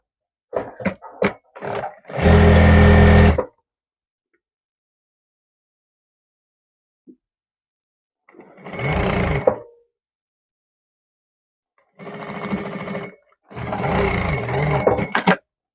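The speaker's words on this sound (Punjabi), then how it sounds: "ਫਿਰ ਆਪਾਂ ਇੱਥੋਂ ਸਲਾਈ ਪਾ ਕੇ ਲੈ ਕੇ ਜਾਵਾਂਗੇ" A sewing machine stitches a pocket onto an A-line kurta in three separate loud runs, each a few seconds long, with short gaps and near silence between them.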